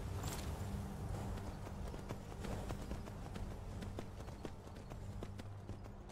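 A horse gallops in the Skyrim video game: rapid, rhythmic hoofbeat clip-clops repeat steadily and close up over about six seconds, quiet overall, with no talk in between.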